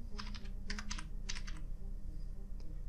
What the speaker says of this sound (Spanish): nos situamos acá y escribimos la contraseña